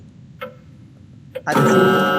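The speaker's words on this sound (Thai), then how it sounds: "มีเสียงนาฬิกา ติ๊กตอก ติ๊กตอกด้วยครับ" A clock in the horror game The Lost Fear gives two sharp, isolated ticks about a second apart over a quiet background before a sudden loud, sustained burst of noise drowns everything out.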